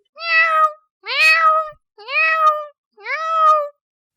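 A schoolchild imitates a cat, giving four drawn-out meows in an even rhythm with short pauses between them, close and clear.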